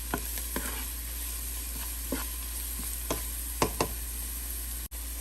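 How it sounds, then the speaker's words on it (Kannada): Onions frying in a pan for a palak chicken dish, a steady sizzle under scattered utensil knocks and scrapes as the pan is stirred, no voices. "ಇದೊಂದು ಸ್ವಲ್ಪ ಫ್ರೈ ಆಗಲಿ ಈರುಳ್ಳಿ."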